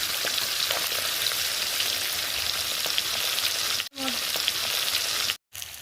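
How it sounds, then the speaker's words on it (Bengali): Pabda fish frying in oil over a lowered gas flame, giving a dense, steady, close sizzle that runs continuously, broken by two brief cuts of silence. "তেলের মধ্যে মাছগুলো দিয়ে দিয়েছি গ্যাস গ্যাসের ফ্লেমটা একটু কমিয়ে দিলাম"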